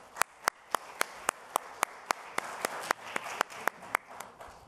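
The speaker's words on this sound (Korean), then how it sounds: "의원님을 박수로 맞이해 주시면 감사하겠습니다." An audience claps to welcome a speaker at a political party sports committee event, the faint claps coming in a quick, fairly regular rhythm with few overlapping hands.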